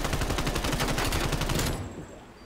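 A sustained burst of rapid automatic gunfire from Call of Duty: Black Ops Cold War, loud and close, cuts off abruptly and leaves a faint fading tail, with no voices.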